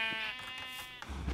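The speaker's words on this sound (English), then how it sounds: "there's a couple of sheeps over here. Hello, sheepies." A single short, wavering sheep bleat from the Minecraft video game, heard up close on its own.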